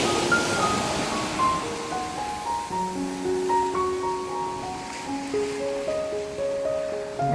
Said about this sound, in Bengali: সাগরের যে গর্জন যাকে বলে বা সাগরের ঢেউয়ের যে শব্দটা হয়